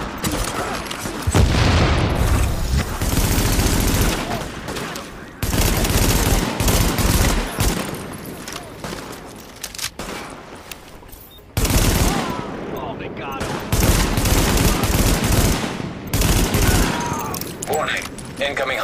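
Rapid bursts of automatic gunfire and booming shots in the video game The Division, loud and dense, broken by brief pauses between volleys, with a game voice speaking at times.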